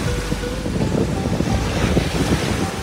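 Waves wash onto the beach at Koh Lipe, Thailand, in a continuous rumbling surge with gusty wind buffeting the microphone, no voices, steady and fairly loud throughout.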